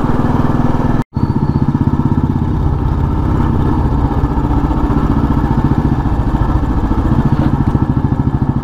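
A motorcycle engine runs loud and close in a steady, throbbing putter, cutting out for a split second near the start before carrying on evenly to the end, with no talking.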